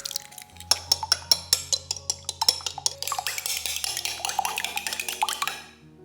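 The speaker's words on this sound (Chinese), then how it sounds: "取出的鸡蛋擦干打散" Eggs being beaten in a bowl for chocolate muffins: a close, fast run of rhythmic clinks and taps of a utensil against the bowl that blurs into steady stirring, with no voices.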